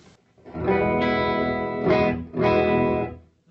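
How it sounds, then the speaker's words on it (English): An electric guitar plays a few sustained, slightly gritty chords through a modeled, mic'd Vox AC30 amplifier, each ringing out with a touch of room reverb before fading. "this is a sound of a mic'd up amp"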